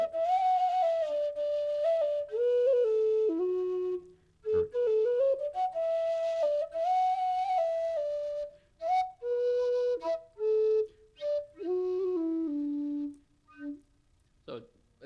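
A breathy, mellow low D whistle plays a slow Irish folk-style melody of sustained and gliding notes, pausing between phrases before ending in short, scattered notes.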